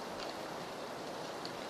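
Steady rain falling in a video game, a dense, even hiss of drops heard alone and continuously at a low level.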